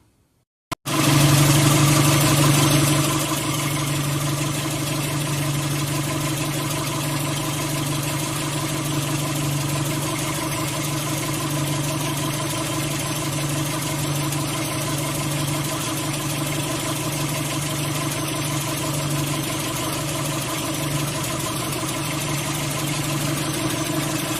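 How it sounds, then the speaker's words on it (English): A 1995 Holden (Isuzu) Rodeo engine starts and settles into a steady idle, a loud initial burst easing into an even, continuous hum heard close up with no talking. "with the engine running"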